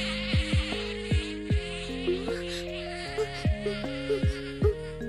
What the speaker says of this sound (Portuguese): Mas que abelha mais chata!